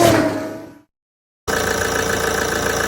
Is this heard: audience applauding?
no